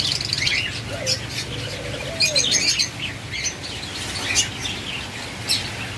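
A pair of white ringneck parrots gives repeated shrill chirps and squawks amid other birds' twittering, all fairly close and busy, with a low background rumble and no talking.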